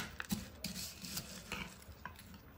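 Crispy chips chaat being stirred and mixed in a bowl with coriander and lemon juice, giving soft crunchy scraping and rustling with light clinks of a spoon, close and fairly quiet, with no voices.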